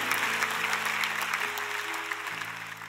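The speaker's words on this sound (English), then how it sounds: "Clap your hands for that." Church congregation applauding during a sermon, a steady wash of many hands clapping at moderate volume with a low sustained organ or keyboard tone underneath.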